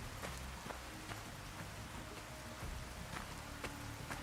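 Steady, fairly faint rainfall patters on surfaces in the video game TTW: Uranium Fever, a continuous wash with scattered droplet ticks and no voices.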